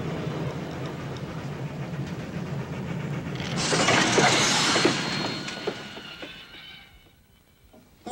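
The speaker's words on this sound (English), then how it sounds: "The Venice Simplon Orient Express, naturally the most luxurious train in the world" The Venice Simplon Orient Express luxury train runs with a steady rolling rumble and rail clatter, swelling into a louder, brighter rush near the middle before fading away quietly at the end.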